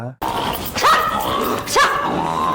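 Two sharp dog barks a second apart, close and loud, over a noisy background with faint voices.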